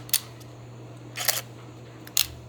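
Nikon D3100 DSLR shutter firing in standard mode, with the lens removed: three crisp mechanical clicks spaced about a second apart, close and distinct over a low steady hum.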